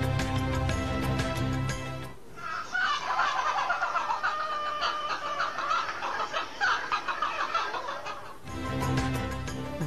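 A backyard flock of five hens and one rooster cluck and chatter near the mic; dense overlapping clucks fill the middle section, framed by louder, more tonal sound at the start and end.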